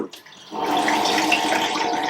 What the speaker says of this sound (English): I'll usually fill up a little bit of water